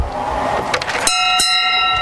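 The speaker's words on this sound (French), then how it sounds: "Ah, et la cloche." A bright bell rings out amid street traffic noise, its metallic tone sustaining clearly over the rumble of passing vehicles.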